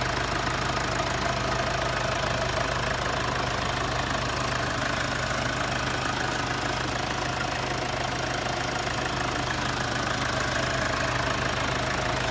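A Mercedes-Benz E250 BlueTec's 2.5-liter twin-turbo inline four-cylinder diesel drones steadily at a low, even idle with a constant hum and faint clatter, close and unbroken throughout.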